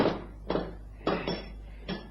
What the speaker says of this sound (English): Grady, give me the hammer and the punch.